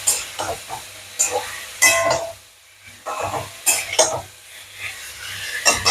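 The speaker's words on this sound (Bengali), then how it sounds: "পেঁয়াজ দিয়ে নাড়াচাড়া করছি।" Onions are stirred in a pan with potatoes and pointed gourd, producing irregular close scraping and shuffling strokes with a brief lull midway.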